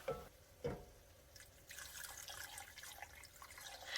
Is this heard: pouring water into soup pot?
yes